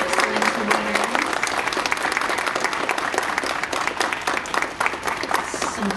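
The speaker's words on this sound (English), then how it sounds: "we should all get one more round of applause for all of our excellent winners" Sustained, dense audience applause at a university writing awards ceremony honoring winners, steady and full throughout with a slight dip near the end.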